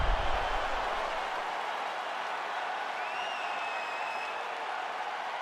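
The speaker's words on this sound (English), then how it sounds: "So the crowd voicing its appreciation after that round." A fight-night arena crowd in a UFC 5 video game applauds and cheers after a round, a dense, steady wash of clapping and crowd noise with a faint whistle partway through.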